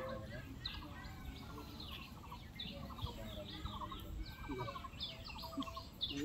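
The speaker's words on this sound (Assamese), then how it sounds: "এইফালে চৰাই চিৰিকটিৰ মাতো আহি আছে" Small birds chirp and call in a busy, overlapping chorus on a quiet riverbank, close and fairly clear above low background noise, with a voice faintly present.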